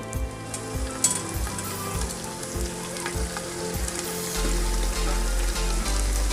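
Bay leaf, cinnamon and cardamom sizzle in hot oil in a village kitchen, giving a steady, close crackling fry with regular soft thumps and stirring underneath.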